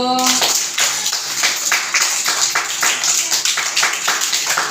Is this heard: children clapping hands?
yes